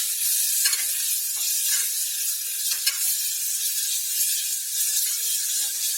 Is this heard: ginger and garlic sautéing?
yes